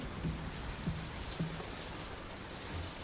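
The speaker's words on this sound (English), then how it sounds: "Did the storm ever run out of rain?" Steady rain and a distant thunderstorm in the horror game Layers of Fear (2023), a dense wash of falling rain with a few low rumbling thuds beneath it, no voices.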